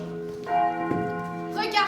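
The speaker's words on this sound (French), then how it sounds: "Les cloches! Les cloches!" Bright ringing church bell tones with sustained overtones sound over voices during a stage play, with a second strike near the end.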